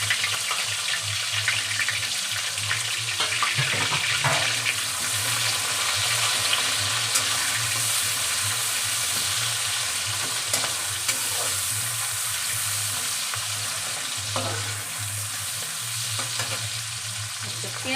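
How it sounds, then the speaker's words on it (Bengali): Chopped onions hit hot oil, already sweetened with a little sugar, for mutton keema, producing a loud, continuous frying hiss that holds steady for the whole stretch with only faint stirring underneath and no one speaking. "পেঁয়াজটা দিয়ে দেবো।"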